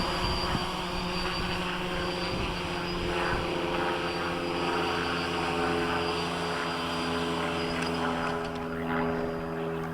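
A WLToys V303 Seeker quadcopter's propellers whine as it comes in to land on rocky ground, a loud, steady, close buzz that runs unbroken from start to finish.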